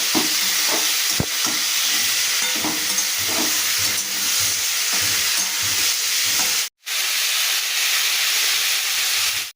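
Potatoes and onions frying in a pan give a loud, continuous sizzling hiss with occasional stirring knocks, close up, briefly cutting out near the end before the frying resumes.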